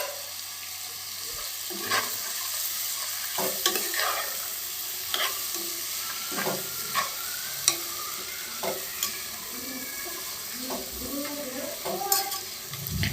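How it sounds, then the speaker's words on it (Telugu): Field beans and potatoes added to hot oil in a masala curry, a steady sizzle punctuated by repeated spatula scrapes and taps against the pan, close and fairly loud. "ఇక్కడైతే అనప గింజలు వేసేస్తున్నాను"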